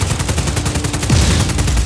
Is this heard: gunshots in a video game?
yes